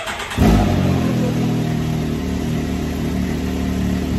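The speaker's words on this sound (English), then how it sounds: "Crank the car up." A Can-Am Maverick X3 side-by-side, fitted with an aftermarket blow-off valve, cranks and catches, then settles into a loud, steady idle close by.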